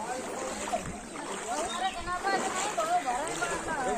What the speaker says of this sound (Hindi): ऐसे चल के जाना पड़ रहा है। देखिए पूरा घुटनों तक पानी भर गया है दोस्तों।